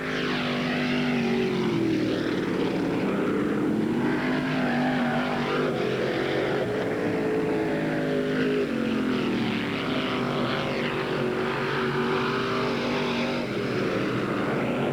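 Late model race cars circle a very dry dirt track at a speedway in 1981, a continuous loud engine roar with shifting pitch as cars pass, steady and unbroken throughout.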